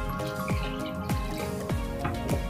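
Water poured into a pot of chicken biryani gravy: a series of evenly spaced, resonant splashing drips, close and clear, with no talking.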